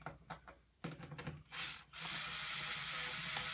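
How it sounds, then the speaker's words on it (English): A screw being driven into a wooden table: a few short creaks and scrapes, then a long steady grinding whir of the driver boring in, close and fairly quiet, with no talking. "So I'm gonna put a screw here."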